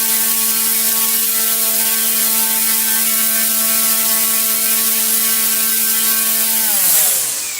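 A propeller motor on a load-cell test stand whines steadily at full throttle, a loud sustained tonal drone that then drops in pitch as it spins down near the end.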